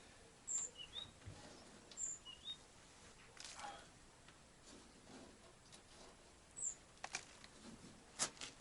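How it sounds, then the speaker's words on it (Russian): Tits (titmice) giving spring song near a garage: faint, distant high chirps and short whistled notes scattered through a quiet background, with a few soft nearby taps and rustles. "Слышите, птицы поют уже весенние,"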